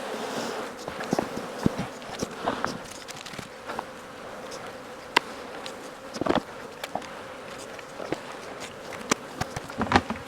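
Honeybees buzz around an open hive during an apiary inspection, a steady low drone with scattered faint knocks and rustles of hive handling.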